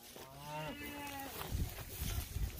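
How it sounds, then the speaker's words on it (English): A cow that has already calved moos once in a long, drawn-out call, fairly close in a farm setting, followed by rustling and handling noises. "here's your cow, Andy."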